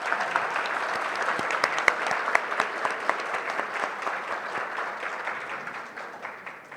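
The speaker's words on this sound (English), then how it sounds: "Please join me in a round of applause" An audience at a retirement banquet claps steadily, a dense patter of many hands that holds for several seconds and then begins to thin out toward the end.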